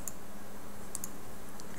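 Computer keyboard keys are pressed in the children's educational game Childsplay, giving a few sparse, light clicks over a steady background hum.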